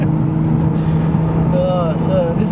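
A single-turbo Nissan R32 GTR accelerates hard with a loud, steady engine roar heard from inside the cabin, while people talk over it throughout.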